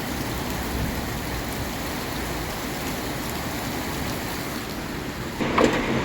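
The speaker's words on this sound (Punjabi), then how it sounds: "ਮੇਰੇ ਬਾਪ ਰੇ ਬਹੁਤ ਗੜੇ ਪੈ ਰਹੇ ਨੇ ਦੇਖੋ" Heavy hail pelts down during a storm in Punjab, a dense, unbroken roar of pattering impacts close by, with a brief louder burst of knocking near the end.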